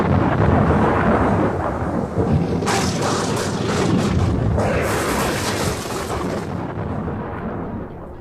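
A radio play sound effect of a heavy thunderstorm: dense pouring rain roars throughout, with rolling thunder crashes swelling in the middle before the storm eases slightly at the end.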